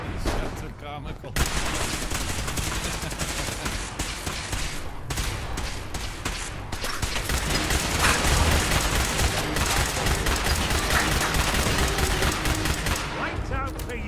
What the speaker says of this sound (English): These shots are comical.